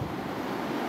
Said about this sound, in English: This is the Pacific Ocean at the Four Seasons Hotel in Bora Bora